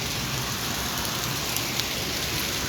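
Heavy rain with strong wind during a nor'wester storm in Sylhet, a dense, loud and continuous hiss of rain on surfaces with a few scattered drop impacts, with no voices.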